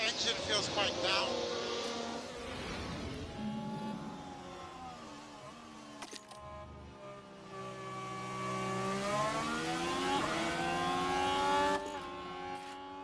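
Race car engines from the F1 Manager 24 game at the Baku street circuit, whining and rising through gears in a loud, close pass. A commentator talks over the engines throughout.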